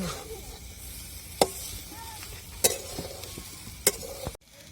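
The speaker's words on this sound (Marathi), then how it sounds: "चांगल्या परतून द्यायच्या म्हणजे मसाला सगळ्या त्या शेंगाला लागन" Moringa drumstick pods sizzle quietly while being stirred through masala in a pan. A steady soft hiss runs throughout, broken by three sharp clinks of the spatula against the pan, and no one speaks.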